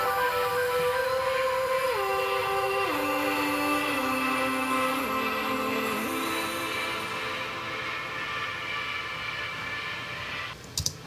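Synthesized vocal-like keyboard tones glide downward in stepped, sliding pitches over a hazy pad, ending with a brief noisy burst.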